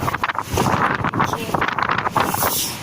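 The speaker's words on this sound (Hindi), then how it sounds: "हवा चल रही है" Strong wind gusts roaring steadily through an outdoor home vegetable garden, a loud continuous broadband rush with rustling fluctuations and no talk.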